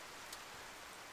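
Steady rain falls outdoors at a rifle range during a test of an M38 Mosin-Nagant, a soft continuous hiss with no talk over it.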